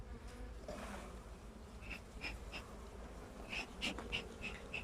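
Honey bees buzz steadily around an opened hive frame of brood and honey, with close individual bees whirring past in several short, louder passes over the constant hum.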